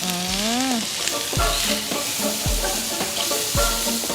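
White konjac noodles stir-fried in oil in a wok for a pad thai-style dish give off a steady, close sizzle, with repeated scraping and clanking of the utensil against the pan.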